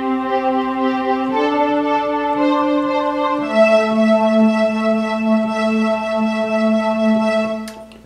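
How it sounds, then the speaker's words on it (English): A solo piano plays the opening riff of a song, a steady, gentle line of sustained notes and chords moving through a few changes at an easy tempo, with no voice. "the first riff that you hear the piano doing"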